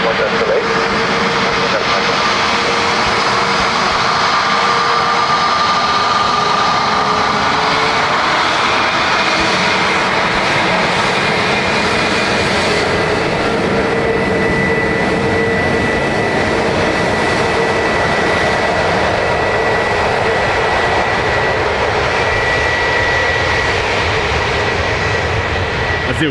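At Dublin Airport, arriving jet aircraft roar loudly and continuously for the whole stretch, a broad engine rumble holding steady with faint tonal whine, while talk is heard under it.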